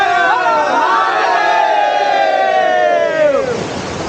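A dense crowd of pilgrims at the Gupt Bhimashankar shrine in the forest, a steady loud roar of many voices with a rising chant-like call sweeping through, continuous and close.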